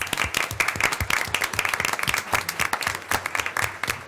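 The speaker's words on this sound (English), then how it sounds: "Let's give them all a round of applause, please." Applause from the audience at a city commission meeting, a steady patter of many hands clapping at moderate volume, evenly sustained for a few seconds with no talk over it.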